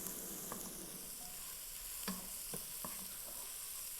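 Shallots sautéing in a pan in a restaurant kitchen, a steady soft sizzle with a few faint clicks and taps of a utensil over a constant background hiss, no voices.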